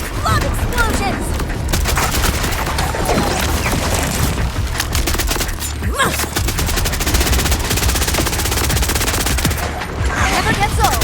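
Borderlands 4 combat with rapid automatic gunfire and heavy booming explosions, loud and continuous throughout, with bursts of rattling shots over a dense low rumble and some speech mixed in.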